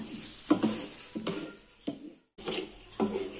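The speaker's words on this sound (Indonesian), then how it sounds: "jangan lupa selalu kita aduk-aduk supaya wijennya ini tidak lengket di dasar wajan" Scraping strokes of a utensil stirring wet sesame seeds in a wok, four rhythmic sweeps with a soft sizzle between them, close up.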